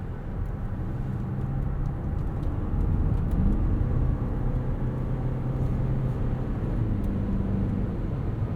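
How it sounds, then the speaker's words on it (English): Wind rushes steadily around a 2021 Toyota Venza Limited cabin while driving, a continuous low broadband roar with road rumble underneath and no talk. "A little bit more wind noise than I think I would like in a car like this"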